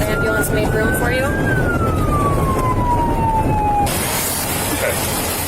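Ambulance siren during a roadside emergency, one falling wail audible over constant road and traffic noise, with a person talking briefly.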